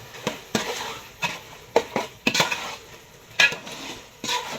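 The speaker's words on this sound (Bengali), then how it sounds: "মরিচ একটু কালার আনার জন্য একটু একটু মরিচের গুঁড়ো দিয়ে দিলাম। তো একটু নেড়ে চেড়ে দিই।" Chili powder being stirred into khichuri of chinigura rice frying in a pan, a rhythmic series of close spatula scrapes and knocks over a low sizzle.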